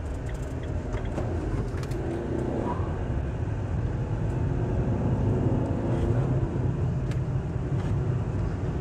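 Engine of a Fiat Doblo Combi running in Tunisia, a steady low rumble with road and wind noise throughout, no talking heard.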